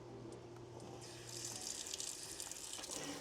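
Water pours steadily into a terracotta pot holding a Hoya plant during a deep indoor watering, a faint continuous splashing trickle that grows slightly brighter and fuller partway through.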